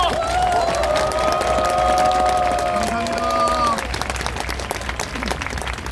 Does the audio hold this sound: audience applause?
yes